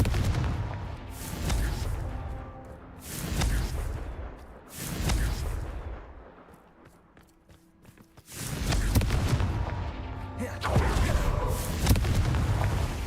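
Explosive blasts from the Confringo fire spell in the Hogwarts Legacy video game, several loud booming bursts with rumbling tails separated by brief quieter gaps, dense and close throughout.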